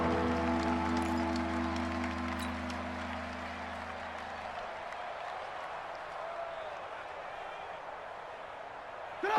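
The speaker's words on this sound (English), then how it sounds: "the crowd getting into it as we come up on a big 3rd down" A stadium crowd at a Giants–Redskins football game builds into steady, broad cheering and roar ahead of a big third down, a dense wash of voices with a tonal hum in the first half.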